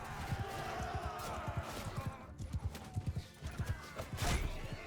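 Horses galloping in the Bannerlord battle game, rapid rhythmic hoofbeats thudding under battle noise, a whinny rising near the end, with brief talk mixed in.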